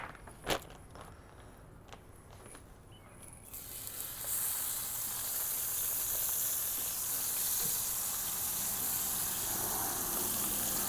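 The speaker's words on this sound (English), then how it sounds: "let's go ahead and get the unseasoned bacon slices on here that were cured with sodium nitrites" Unseasoned, sodium-nitrite-cured bacon slices hit a skillet set over charcoal coals: a few faint clicks and a quiet stretch, then a loud, steady sizzling hiss that holds to the end.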